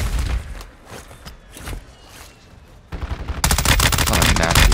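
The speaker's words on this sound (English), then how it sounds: "They're shooting at me" Gunfire in Warzone, with scattered close shots early on, then dense rapid automatic bursts building into a loud sustained barrage toward the end.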